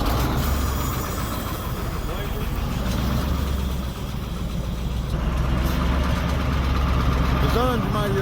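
A 1974 Dodge V8 diesel semi truck engine idles with a steady low rumble throughout, loud and close, with a voice speaking over it.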